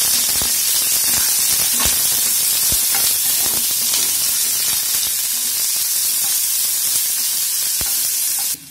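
Onions sizzling and frying in hot oil with bay leaves for aloo dum, a steady loud hiss and crackle with faint clicks of stirring, no voices.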